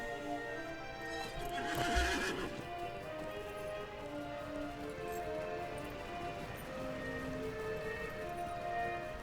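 A rider's horse in Lord of the Rings Online whinnies near the start, then clip-clops steadily uphill along the Withywindle by the Old Forest, hoofbeats continuing in an even rhythm with ambient background and no talking.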